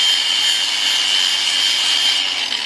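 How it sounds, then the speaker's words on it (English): An angle grinder cuts through wide, crooked pit bike handlebars, a steady high-pitched grinding whine that holds loud and close for the whole stretch, with no talking. "cutting my bars because they've been super wide"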